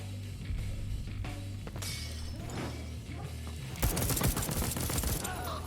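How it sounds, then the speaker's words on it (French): A grenade goes off in the video game Deathloop: a loud, sharp blast with shattering debris near the end, following several seconds of busy gunfire and combat noise. "Voilà, grenade!"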